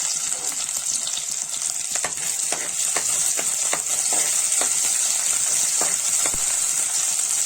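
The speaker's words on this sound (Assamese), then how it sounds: "এয়া তেল গৰম হ'ল আৰু ইয়াতে পিঁয়াজখিনি দিছোঁ" Chopped onion fries in hot mustard oil, giving a loud, bright, constant sizzle with bursts of crackling and spattering close by, and no talking over it.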